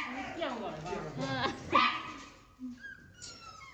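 Young puppies of the American Bully breed at a kennel, yipping and whimpering in short high cries mixed with small barks, heard close up alongside people talking.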